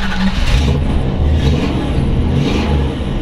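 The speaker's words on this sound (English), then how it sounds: "I'm going to fire this old girl up so you can hear it run." A 1937 Buick Special four-door sedan resto-rod engine running close up, a loud, steady low rumble with slight rises in revs across a few seconds.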